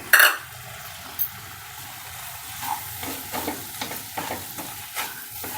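A spoon stirs salt and chili powder into a wild mango (ambarella) pickle in a pan, with soft repeated scraping and tapping strokes, a sharp clink at the start and faint sizzling beneath.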